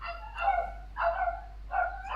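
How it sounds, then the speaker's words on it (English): Two tiny dogs fighting outdoors, heard as three bursts of yapping barks with short snarling edges, spaced about half a second apart and muffled, as if through an open door. "there's like two tiny dogs trying to murder each other outside"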